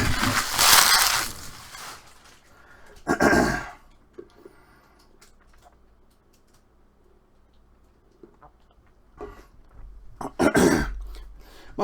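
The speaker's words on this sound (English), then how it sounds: "clearing my throat like crazy." A man with a worn-out, hoarse voice clears his throat in several loud, rasping bursts near the start, again around three seconds, and once more near the end, with quiet room tone in between.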